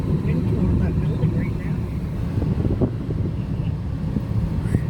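Strong storm wind roars past a building, a heavy, continuous low rumble with gusty buffeting on the microphone, loud and close, with faint voices underneath.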